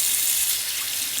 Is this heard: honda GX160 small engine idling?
no